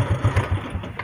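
A small engine idling close by, a low, rhythmic chugging pulse repeating several times a second, steady and unbroken.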